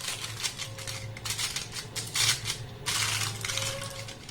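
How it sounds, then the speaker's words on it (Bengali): Foil paper crinkles in bursts as it is pressed over the top of a fruit ice cream mould, with close, dry rustling and crackling that rises and falls across a few seconds, with no talking. "ফয়েল পেপার দিয়ে মুখটাকে এইভাবে ঢেকে দেব।"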